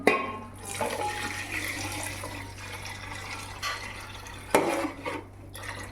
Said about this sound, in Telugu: ఇప్పుడు మనము ఈ ఎసర్ని ఓకే గిన్నెలోకి ట్రాన్స్ఫర్ చేసేద్దాం